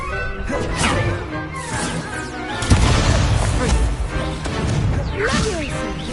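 Levioso spell cast in the Hogwarts Legacy video game, a burst of magical whooshes and a crashing impact mixed with busy game effects and music, fairly loud throughout.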